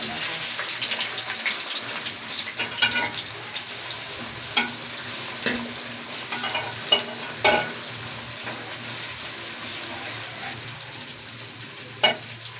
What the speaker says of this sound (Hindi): घी हमारा गर्म हो गया। अब हम इसमें प्याज ऐड कर देंगे।